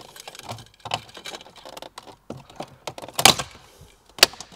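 Plastic trim panel on a Peugeot 3008 being pried loose and pulled free, giving scattered light clicks and rustles and then two sharp, close snapping pops near the end.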